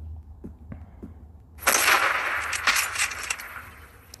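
A sniper rifle fires in a hunting video game: after a few faint clicks, a single sharp, loud shot bursts out and rolls into a long echoing boom that fades slowly.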